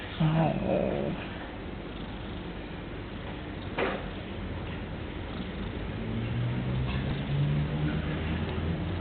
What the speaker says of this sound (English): Poor cat. Poor cat.